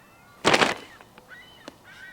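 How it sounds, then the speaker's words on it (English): Gulls calling outdoors in Colorado: a loud, harsh burst of squawking, then a few thinner, rising cries spaced out over a quiet background. "Seagulls? Where are the seagulls coming from?"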